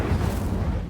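A short, dense whooshing burst of the Incendio fire spell from the Hogwarts Legacy video game, a low, rumbling blast that fills the full second.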